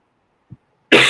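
A single sharp, loud cough bursts out after a brief moment of near silence, preceded by a tiny throat sound.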